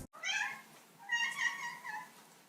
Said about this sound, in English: Now the next type of meow is a squeak.